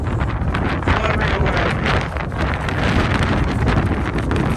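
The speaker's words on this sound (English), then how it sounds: "the wind's blowing about 30 miles an hour" Strong wind of about 30 miles an hour roars on a mountain along the Appalachian Trail, buffeting the microphone continuously, a loud, rushing gusty blast with no voices.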